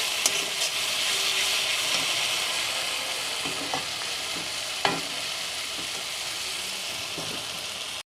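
Poppy seed and cashew paste fries in a pan with steady, close sizzling and hiss, broken by a few light scrapes and taps of a stirring spoon; no one speaks.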